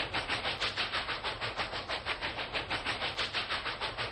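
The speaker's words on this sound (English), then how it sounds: "the Union Pacific FEF 4 is eventually going to be making itself very slow" Union Pacific FEF 4 steam locomotive rolling along rail-scale track, a steady rapid rhythmic clatter of wheels and hissing broadband noise, loud and continuous throughout with no voices.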